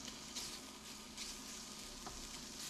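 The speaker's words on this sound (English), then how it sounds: "We're going to first throw in our bacon." Bacon sizzling and frying in a hot pot, a steady close crackle with faint stirring and scraping, continuous and alone without talk.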